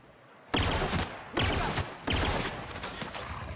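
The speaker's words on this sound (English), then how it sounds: "Little bolter pistols. Better than the stats would let on" Bolter pistol firing in The Outer Worlds video game, three loud sustained bursts of rapid fire separated by short pauses, up close with no talk.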